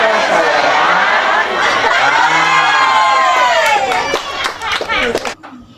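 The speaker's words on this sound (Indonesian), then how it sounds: "warga berteriak dan tepuk tangan" A crowd of residents at a mayoral election campaign event shouts, cheers and claps loudly and steadily, with children's voices rising through the din. Scattered sharp claps mark the end before the noise cuts off abruptly.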